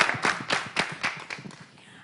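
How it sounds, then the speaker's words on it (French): Scattered hands clap at a televised event, a handful of distinct, uneven claps close by that fade out after a couple of seconds. "Applaudissez."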